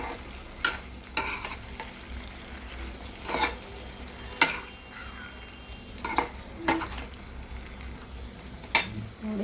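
Capsicum curry sizzles softly in a pan as its water cooks down, a steady low frying hiss broken by several sharp stirring scrapes spaced through the stretch, with no voices.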